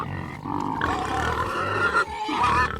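A pig grunts and snorts in a low, rough, continuous run for nearly three seconds, loud and close with no talking.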